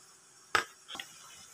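A spoon taps twice against a pan while adding ginger paste to egg tomato curry: one sharp clink followed by a softer knock, close and brief, against a quiet kitchen background.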